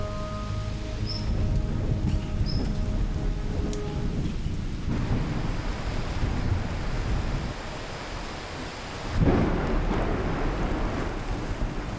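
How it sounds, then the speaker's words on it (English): A thunderstorm over Guyana's savannah with steady heavy rain and a low rolling rumble of thunder, swelling again near the end as another roll of thunder breaks. "More rain clouds approaching, heralding a heavy storm."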